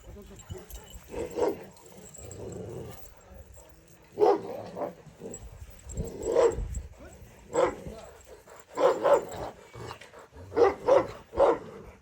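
Kangal dogs, including a female, let out deep, scattered barks at irregular intervals, some in quick clusters of two or three, moderately close, with people talking in between.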